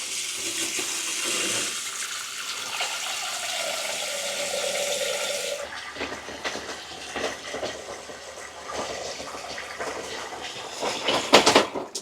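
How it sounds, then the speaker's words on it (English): Shower running in a 2025 Keystone travel trailer while waiting for hot water, a hissing stream splashing into the stall, then a shift to clattering, gurgling water and mechanical knocks, growing louder near the end. "you're waiting for this water to come out of your shower drain"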